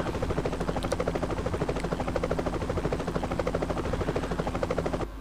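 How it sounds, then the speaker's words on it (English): A Cobra attack helicopter in the Eurofighter EF2000 combat flight game, its rotor chopping in a fast, steady thump under a loud, constant mechanical drone that holds throughout. "An attack helicopter."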